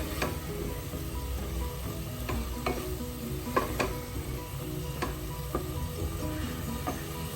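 Spices fry and sizzle in a pan for potato curry while being stirred, a continuous crackle broken by repeated scraping clicks of the spoon against the pan, close up with no voices.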